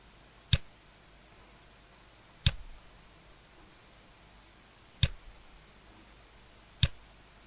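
Keyboard keys are pressed for a Ctrl or Command T shortcut, four sharp isolated clicks spaced a couple of seconds apart against near silence.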